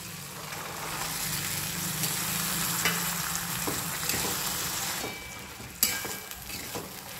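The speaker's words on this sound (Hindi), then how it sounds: "मटर को हमें 1-2 मिनट इस मसाले के साथ में फ्राई करना है" Peas sizzle in a pan with garlic-ginger paste and spices, a steady close frying hiss broken by occasional scrapes and clicks of stirring, with no talking.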